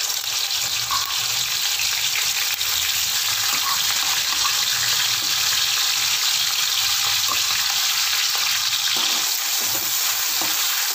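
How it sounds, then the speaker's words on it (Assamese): A ginger, garlic and onion mixture fries in a pan with a steady, loud hiss and crackle that runs unbroken throughout. "আদা নহৰু পিঁয়াজৰ মিশ্ৰণখিনি দিছোঁ।"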